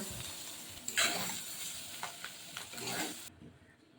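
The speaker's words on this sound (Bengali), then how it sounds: "সবজিগুলো আমার ভাজা হয়ে গেছে, এবার এগুলো নামিয়ে নেব।" Vegetables sizzle and hiss in a hot wok, with clattering stirring scrapes breaking through the steady close frying noise; no one speaks.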